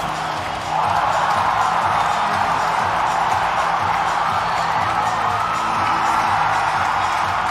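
A ballpark crowd roars in sustained, loud cheering after a walk-off inside-the-park home run, the swell rising sharply in the first second and holding steady throughout.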